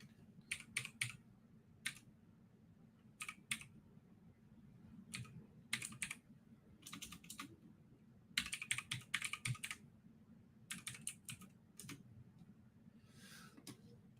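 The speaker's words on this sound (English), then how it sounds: "what did I type in wrong?" Clattering keystrokes on a computer keyboard come in quick irregular bursts separated by pauses, close and fairly clear over a low steady room hum, with no talking.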